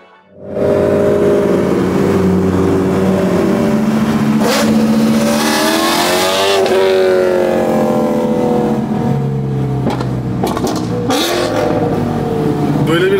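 A loud Audi R8 exhaust tuned to 650 whp revs hard and climbs through rising sweeps, then drops sharply on a downshift, followed by further blips and crackles up close. Voices are heard briefly over the engine.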